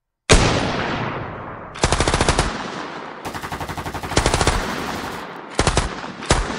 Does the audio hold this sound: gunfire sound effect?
yes